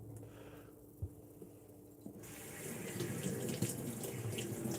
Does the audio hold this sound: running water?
yes